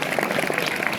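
An audience claps in a short burst of dense applause at a talk at a government junior college in Motkur.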